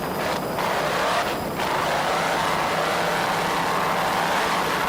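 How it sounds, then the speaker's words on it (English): A racing powerboat with twin 950 hp Mercury engines roars steadily at the 2004 Sunny Isles Grand Prix offshore race off Florida, a loud, continuous distant drone that holds unbroken for the full stretch. "Those two 950 horsepower Mercury power plants sound excellent."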